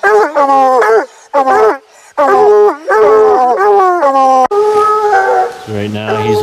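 Raccoon hunting hounds bay and howl at night near a stream, in long drawn-out wailing bursts from several dogs that overlap and repeat, loud and close, with short gaps between calls.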